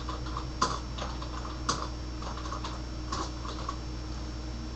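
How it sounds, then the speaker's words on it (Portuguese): Names are typed on a computer keyboard, heard as light, steady key clicks close by with a couple of sharper taps, under a constant low hum of room or machine noise and with no talk. "Então eu vou digitar aqui alguns nomes"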